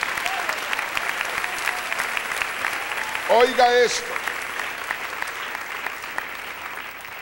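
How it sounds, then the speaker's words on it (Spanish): A church congregation applauding during a sermon, steady dense clapping filling the whole stretch with a preacher's voice talking over it and a brief vocal burst in the middle. "Si está contento, dele un aplauso al Señor."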